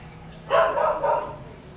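A dog gives a short burst of two or three barks, moderately close, then quiet.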